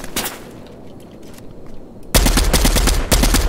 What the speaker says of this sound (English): His friend is shooting me now.